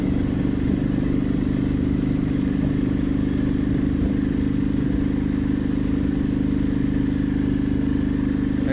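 A motorcycle engine runs loud and close on a steep uphill climb, holding a constant heavy drone with faint clattering and no break for the whole stretch.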